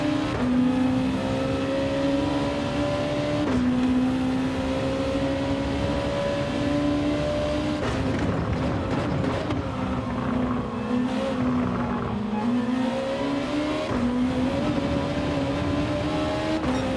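Race car engines in Gran Turismo 7 during an online lobby race, a steady loud drone with a rising and falling pitch as the car shifts through gears, a second car briefly passing close around the middle.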